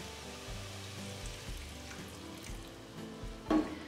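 A dried beef mixture for escondidinho de carne seca is stirred in a pan with a splash of water, soft sizzling and scraping strokes recurring at a steady rhythm, close and fairly quiet.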